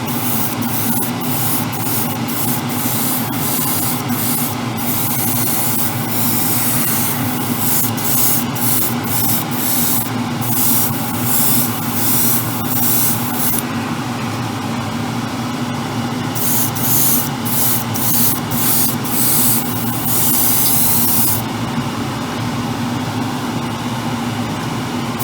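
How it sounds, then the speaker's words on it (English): An airbrush sprays paint onto the bodywork of an Alpha Model Ferrari 812 Superfast scale model car, giving repeated short hissing bursts with brief pauses over a steady compressor hum, close and fairly loud, with no talking. "Check that I've got some paint coming out of the airbrush."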